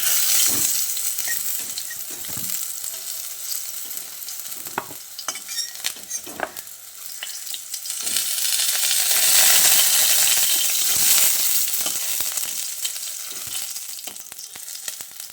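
Fried aubergine slices being lifted and drained out of hot oil in a kadai, a steady sizzle and bubbling running throughout with scattered clinks and scrapes of a slotted spoon, swelling louder midway.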